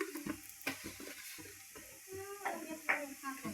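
Dried fish roasting with red chilli and mutton masala in a home pan: soft crackling sizzle broken by a spatula scraping and stirring against the metal in quick, irregular strokes, close and fairly quiet.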